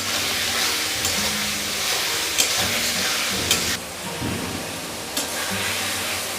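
Slit green chillies are stirred and fried in a pan for a fish head and tomato curry, giving a steady hiss of sizzling oil with occasional scraping clinks of the spatula and soft pops.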